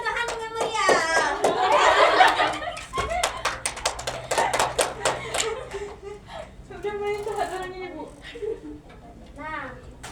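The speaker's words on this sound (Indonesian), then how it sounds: "Tepuk tangan untuk Hanung yang meriah" A school class claps for a student during a micro-teaching lesson on the Pythagorean theorem, a burst of bright hand claps with some laughter, then a teacher's voice speaking over scattered clapping that fades.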